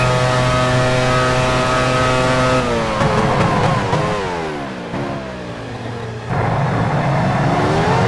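A 1999 Formula One car at the French Grand Prix at Magny-Cours in the F1 Challenge 99-02 game, its high engine whine dropping in pitch as it slows into the pit lane, loud and steady.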